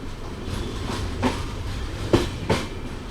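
The Vijayapura–Hubballi passenger train 56920 rolls along after leaving Anigiri station, a steady rumbling hum broken by several sharp clacks of wheels over rail joints, heard from inside the coach.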